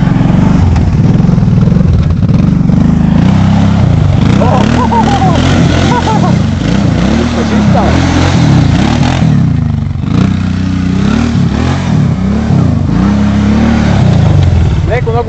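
A motorcycle engine runs steadily and revs up and down repeatedly, loud and close, with people talking over it throughout.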